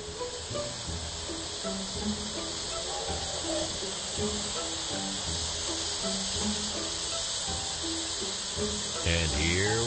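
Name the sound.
steam locomotive hissing as steam flows to the cylinders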